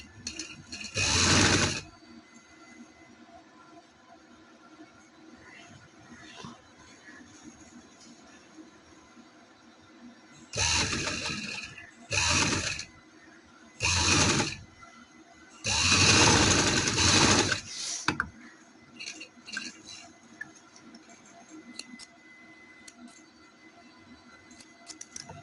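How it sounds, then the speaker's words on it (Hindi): A sewing machine stitches a shalwar in several separate runs, short and long bursts of rapid mechanical whirring broken by quiet pauses, close and loud with no talking. "इधर से हम सिलाई शुरू करेंगे"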